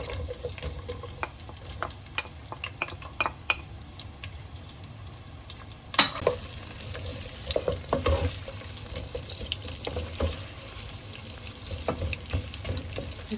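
Sliced onions fry in lightly heated oil for a Sindhi fish pulao, giving a steady broadband sizzle with scattered spatula clicks and stirring scrapes, a sharp clatter near the middle, close and moderately loud with no talking.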